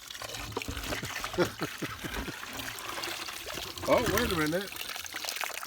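Spring water trickles and pours from a hose into a bottle at a roadside spring in Maine, a steady liquid splashing with someone talking briefly over it.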